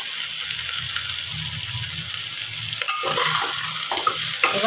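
Potato, papaya and carrot pieces tossed into a hot pan of oil and onions for a stew, sizzling steadily throughout with a few scraping stirs and clatters near the end, no voices.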